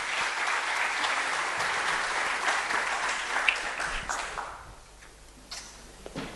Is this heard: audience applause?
yes